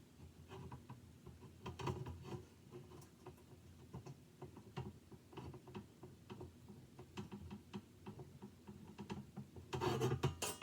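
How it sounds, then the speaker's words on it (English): Small red screws being driven into the corners of a crank and slider build with a hex driver, giving soft repeated rubbing, ticking and rasping clicks at close range, with a busier burst of scraping near the end. "You can see I'm just putting red screws in those corners and tighten them up with my hex driver"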